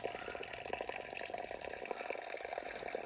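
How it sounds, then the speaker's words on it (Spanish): Water runs and splashes steadily from the Cal Ramon public fountain, a faint continuous trickle with no voices. "Pues ya hemos llegado a la primera fuente."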